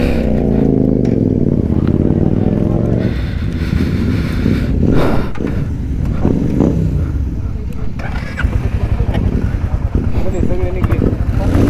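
A Royal Enfield motorcycle engine runs throughout at a Royal Enfield gathering, a steady low thumping idle with rhythmic pulsing that sharpens near the end; voices talk over it for much of the time.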